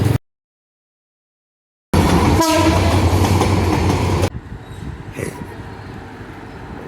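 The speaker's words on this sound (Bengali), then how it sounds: "অনেকক্ষণ যাবৎ ওয়েট করার পর ফাইনালি আমাদের ট্রেন এসে গিয়েছে" A train arrives at a station in Cumilla, Bangladesh, with a loud rumbling roll of wagons and a short horn blast, then the noise drops to a quieter, continuing clatter as it slows, after a brief silent gap at the start.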